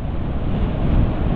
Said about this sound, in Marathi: गाडीचा आवाज अजिबात नाही तुम्हाला बघू शकतो मी, फक्त येईल तर वाऱ्याचा आवाज.